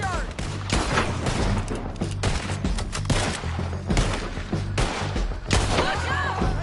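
Rapid gunfire volleys from Red Dead Redemption 2, with loud overlapping shots and booming reports crackling continuously during a chaotic fight on a bridge, while voices shout over the shooting.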